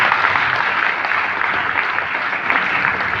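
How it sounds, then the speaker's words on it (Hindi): An audience at a gathering in Kolkata gives loud, sustained applause, a dense continuous wash of many hands clapping throughout. "जोरदार तालियां।"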